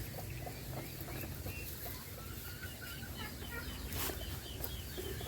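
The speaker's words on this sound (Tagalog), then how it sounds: "At ayun na yung manok na may itlog." A hen with her eggs clucks softly among chickens, with scattered short clucks over a steady noisy farmyard background.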